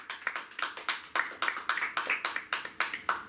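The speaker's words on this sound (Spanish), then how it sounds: "denle un aplauso al Señor Jesús" A church congregation claps together in a steady rhythmic beat, evenly spaced hand claps repeating at a moderate pace, fairly faint and distant with no talk over them.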